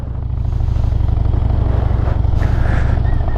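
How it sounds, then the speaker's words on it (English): A motorcycle pulls away from a stop as the throttle opens, its low engine thrum loud and close with a rising whine and wind rush. "slowly let the clutch out as you provide some throttle"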